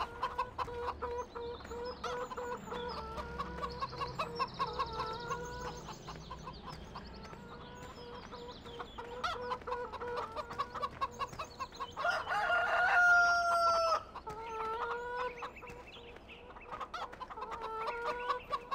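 In the Farming Simulator 2013 video game, a flock of chickens clucks constantly in overlapping bursts, with a rooster crowing loudly partway through, a busy, repetitive farmyard chorus with no talking.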